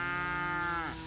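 Cows mooing while grazing in the Lower Oder Valley National Park, a single long, loud, close moo that bends downward at the end.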